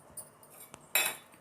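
A metal cooking pot is set down in a kitchen with a sharp clank, preceded by a few light taps and clinks. The sounds are close and there is no talk.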